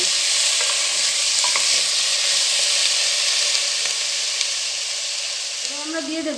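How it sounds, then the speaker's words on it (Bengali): Pumpkin greens (pui shak) frying in a pan while being stirred, with a steady bright sizzle and occasional scrapes of the utensil, and a voice speaking briefly near the end. "ভালো করে সব কিছু নাড়িয়ে নেব যতক্ষণ না এটা তৈরি হয়"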